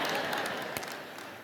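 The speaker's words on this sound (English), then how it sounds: "ladies are cheering, yeah." An audience of women cheering and applauding together, a steady broadband wash of clapping and voices filling the room, fairly near and fading slightly toward the end.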